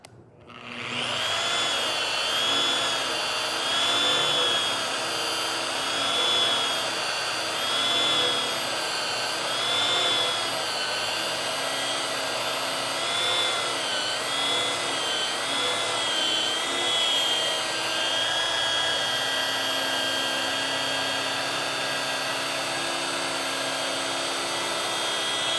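A rotary polisher works car paint with a steady high motor whine that wavers slightly as the pad is tilted and moved, running alone and close throughout.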